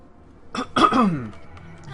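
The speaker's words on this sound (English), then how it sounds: "I turned my head to cough while I was walking." A single close, harsh cough with a short throat-clearing burst, followed by low background murmur during a Wrath of the Lamb gameplay session.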